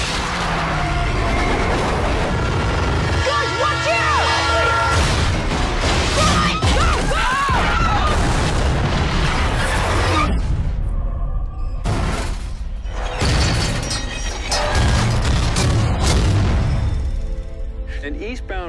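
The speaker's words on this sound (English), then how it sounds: "An eastbound freighter derailed." Film sound effect of an eastbound freight train derailing, a long, loud, dense barrage of crashing, smashing metal and booming impacts, with voices shouting over the chaos.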